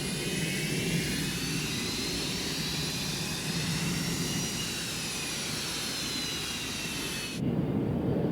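A jet airplane roars steadily overhead, a continuous loud engine drone with a high whine, unchanging until a shift near the end.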